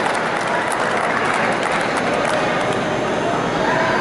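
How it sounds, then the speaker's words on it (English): An opening-ceremony crowd at an indoor track meet applauding, a dense, loud, continuous wash of clapping filling the whole stretch, with some crowd noise mixed in. "Give yourselves a big round of applause"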